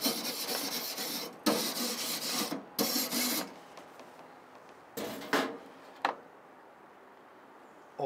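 A steak grill grate is scraped clean with a series of harsh, rasping strokes that come in short bursts with pauses between them, close and fairly loud at first and then quieter and more sparse.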